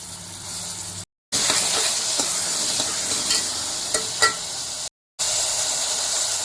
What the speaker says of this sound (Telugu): ఇప్పుడు ఈ ఆనియన్స్ని బ్రౌన్ కలర్లోకి వచ్చే వరకు బాగా ఫ్రై చేసుకోవాలండి.